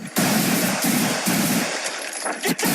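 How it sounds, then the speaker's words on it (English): A rapid burst of police gunfire ending a car chase, loud overlapping shots in quick succession with brief gaps. "The chase ends in an intense hail of gunfire."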